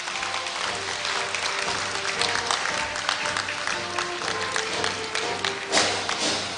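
Applause from a crowded hall at a Korea University graduation ceremony, steady dense clapping that holds throughout with a brief swell near the end.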